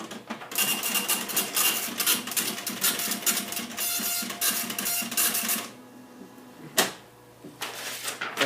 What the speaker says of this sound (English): It is an impact printer.